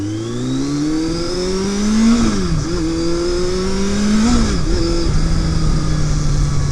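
A Yamaha XJ650 Turbo motorcycle engine runs at a steady, loud drone close by, its pitch dipping and climbing twice as gears are shifted.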